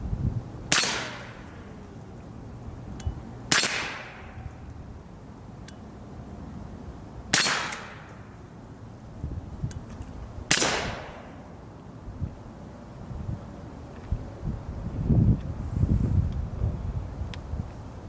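An Energetic Arms Vox S rifle fires subsonic rounds outdoors, four sharp, loud cracks spaced a few seconds apart, each trailing off quickly, with wind noise buffeting the microphone between shots.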